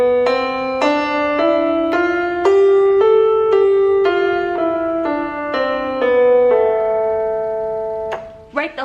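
The musical alphabet notes sound one after another in order, about ten evenly spaced tones stepping in pitch, clear and close with a brief extra sound at the very end.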